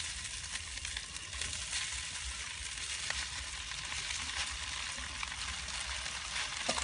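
Noodles sizzling and frying in a hot pan with cooked egg for Lao khoa me rat na, a steady loud crackling hiss running throughout without pause, close up and with no talking.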